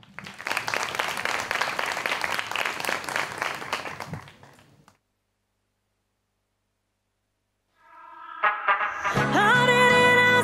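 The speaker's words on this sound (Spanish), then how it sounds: "Un fuerte aplauso para ellos." A crowd applauds a dance duo at a final gala show, a dense burst of clapping that fades out by about five seconds, followed by silence and then music starting up.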